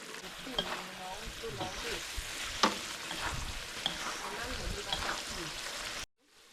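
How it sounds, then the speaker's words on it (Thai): Beef curry with turmeric shoots simmering in a pan at a campsite, with a continuous soft bubbling sizzle and occasional stirring clicks, partly under a voice, ending abruptly. "ต้มแกงมันไปเรื่อยๆครับ ให้เนื้อมันเปื่อยหน่อย"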